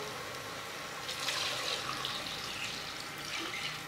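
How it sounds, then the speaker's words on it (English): Water poured into mutton in a cooking pot, a soft steady splashing and rushing of liquid lasting a few seconds, fairly quiet and close. "I want to add some water to the mutton"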